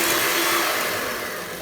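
An egg being mixed into creamed margarine and sugar for a chocolate cake batter produces a steady, loud, motor-like whirring that holds almost unchanged throughout, fading slightly toward the end.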